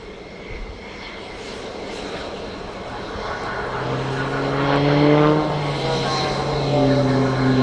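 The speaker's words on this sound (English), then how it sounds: "Again, the speed decreases and the aircraft goes into a tail slide." Aerobatic fixed-wing aircraft at an airshow flying display, its engine droning and building steadily in loudness with shifting pitch as it climbs and falls back into a tail slide, heard from the crowd at a distance.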